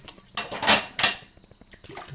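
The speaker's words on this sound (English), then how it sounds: "so we got all those dishes cleaned, and we turn off the water" Dishes are washed under running water: a brief, close clatter of plates and cutlery in two or three bursts, with a soft splash of water and no talking.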